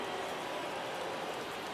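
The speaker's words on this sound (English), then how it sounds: "It feels like we might be headed towards a rain delay if the weather doesn't ease up, Chris." Steady rain falls in a baseball game in MLB The Show 23, a dense, even hiss with no break and no voices.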